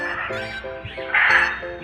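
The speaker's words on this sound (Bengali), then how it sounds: "ম্যাকাওগুলো নিজেদের মধ্যে ঝগড়া করছে, আওয়াজ করছে প্রচুর" Macaws squawk and quarrel inside a zoo aviary at Alipore Zoo, a harsh run of repeated, closely spaced raucous calls rising to a louder burst near the end.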